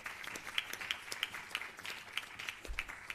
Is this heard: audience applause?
yes